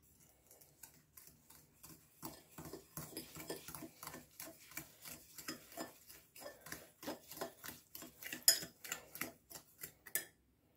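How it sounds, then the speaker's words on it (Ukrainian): Fork beating eggs with sugar in a bowl, a fast, regular clicking and scraping against the bowl that repeats for about ten seconds, close and fairly quiet with no talk. "До яйця додаємо цукор блендером, вилкою, розбиваємо їх, змішуємо їх до однорідної суміші,"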